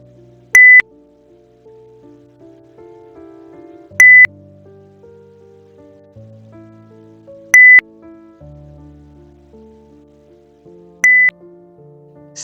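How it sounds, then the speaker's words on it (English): A Python CPU and RAM monitoring script sounds four short sharp alert beeps, evenly spaced about three and a half seconds apart, loud over soft background music. "And listen for the beep sound."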